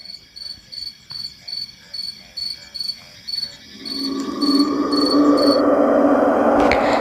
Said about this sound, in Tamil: மாறி மாறி வந்த தவளை வெட்டுக்கிளியோட சத்தம்